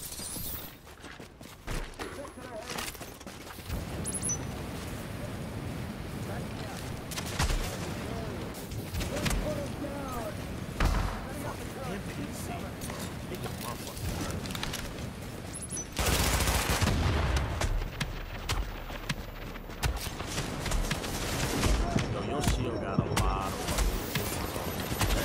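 Rapid gunfire and a roaring flame turret from The Division rattle steadily throughout, dense and continuous, with a louder burst near the middle as shots pile on top of one another.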